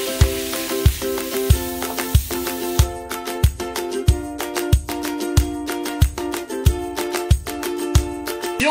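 Ground pork frying in a pan, with a steady sizzle under repeated regular thumps and scrapes of stirring, close and fairly loud.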